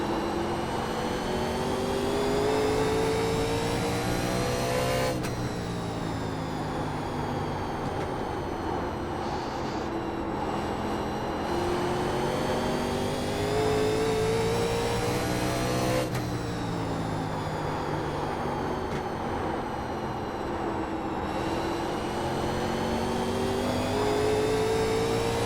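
Vintage 1987 NASCAR Legends stock cars in iRacing at Nashville Fairgrounds, engines droning loudly and continuously with rising and falling pitch as cars pass, a steady roar throughout with no talk.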